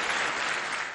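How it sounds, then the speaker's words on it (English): A resounding ovation fills the UN General Assembly chamber as a Palestinian leader enters, a dense, steady wash of applause from a large crowd, loud and continuous. "Then a resounding ovation as a Palestinian leader entered the General Assembly chamber."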